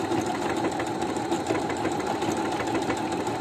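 A new sewing machine stitches back and forth, a steady rapid mechanical whirring and clatter running close and continuous with no talking.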